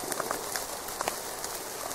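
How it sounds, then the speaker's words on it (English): Heavy rain falling outdoors in the woods, a dense steady patter with scattered sharper drops hitting nearby surfaces, moderate and even throughout without speech. "it's raining so hard that it just doesn't work"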